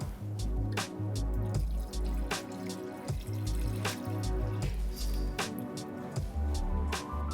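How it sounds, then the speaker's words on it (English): Water pours steadily into a pot of mutton for a Kashmiri yakhni stock, a close, continuous splashing stream with repeated dripping spatters and no talking. "To this, let's add a liter of water."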